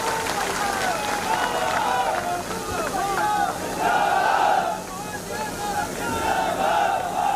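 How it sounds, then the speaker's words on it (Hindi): A large crowd at an election campaign rally roars and cheers in rising, chant-like surges, with scattered clapping mixed into the steady din. "जोरदार तालियां आपने गुड्डू भाई के लिए भी"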